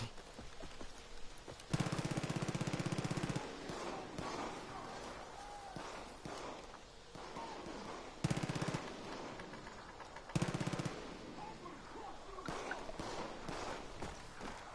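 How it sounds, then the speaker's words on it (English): Gunfire from shooting enemies in the video game Far Cry New Dawn comes in three loud automatic bursts over a quieter game soundscape, with a few scattered single shots between them. "I'm gonna take a break and go shoot some bad guys"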